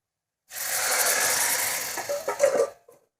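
Black bean dal tipped into a hot tempering of curry leaves and asafoetida for a village-style amti lets out a loud, steady sizzling hiss that fades and sputters out after about two seconds.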